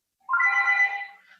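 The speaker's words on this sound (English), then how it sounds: "He just got a phone call." A telephone rings with an incoming call during a remote hearing, one short tonal ring burst of about a second, clear and close, with no talking over it.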